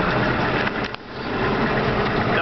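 Combine harvester engine running steadily during a wheat harvest, a loud continuous drone with a brief dip and clunk as the machine is put into gear, then the engine hum carrying on.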